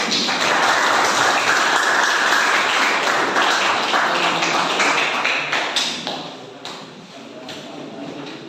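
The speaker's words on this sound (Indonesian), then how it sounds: "Berikan aplaus untuk kelompoknya Mas Adit." A university audience applauds a presenting group, a dense, steady wash of clapping that holds loud for several seconds before thinning and fading out near the end.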